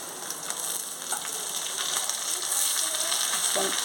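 Amaranth leaves frying in a pan crackle and sizzle steadily, a dense close hiss with small pops and occasional stirring scrapes.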